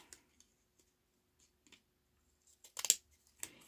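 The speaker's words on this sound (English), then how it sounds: "It can't handle too thin and it can't handle too thick. These scissors are picky." Scissors snip through paper while trimming a craft edge, a few sparse quiet cuts giving way to a louder burst of closely spaced snips near the end, with no talking.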